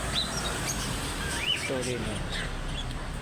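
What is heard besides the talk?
lovebirds chirping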